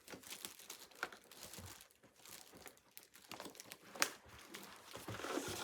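Scissors struggle to cut through the packaging of an animatronic during an unboxing, producing faint, irregular crinkling and crunching of plastic with sharp snips and tearing scrapes, close but quiet, with no talking.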